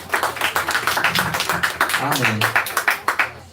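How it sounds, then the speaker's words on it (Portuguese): Church congregation at a Baptist Bible school closing service claps together in a lively, rhythmic burst, hands striking steadily while a voice speaks over the applause partway through. "Vamos aplaudir."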